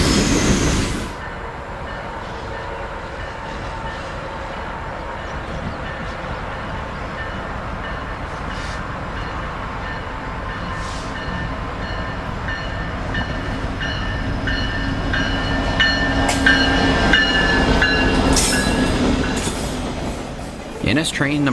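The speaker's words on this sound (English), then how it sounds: "NS train number 116 is a Chattanooga, Tennessee to Bellevue, Ohio train, and it takes the siding at Enon." Norfolk Southern freight train number 116, running Chattanooga, Tennessee to Bellevue, Ohio, passes on the siding at Enon with a steady rumble of rolling cars, growing slightly louder near the end with some faint wheel squeal.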